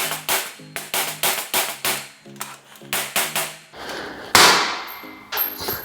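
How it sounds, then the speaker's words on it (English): Sharp metallic hammer strikes on a chisel against a chain link in quick bursts, ringing clangs repeating steadily, then a harsher louder hit near the end followed by a couple more blows. "Then we'll just try to hammer it off."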